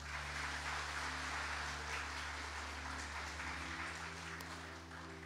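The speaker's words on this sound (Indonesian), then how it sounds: "Tepuk tangan buat Tuhan." A church congregation claps together for God during a worship service, a dense, sustained wash of applause at steady loudness with a low droning hum of instruments or amplification beneath, fading slightly near the end.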